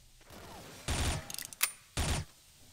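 A BAR rifle fires in the shooter game XSHOT in short, loud bursts: one burst, a single sharp crack, then another burst. The shots sound close and stand apart from the quiet between them.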